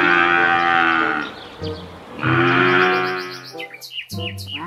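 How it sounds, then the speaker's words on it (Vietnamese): A black water buffalo gives two long, loud, close moos, the second trailing off into shorter cries, with birds chirping faintly in the background. "Đó là một con trâu các bạn ạ."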